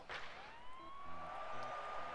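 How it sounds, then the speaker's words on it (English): A police siren in a hockey video game trailer, a faint rising tone that climbs and then holds steady, sitting low in the mix under other game sounds and music. "I guess it probably is just a police siren."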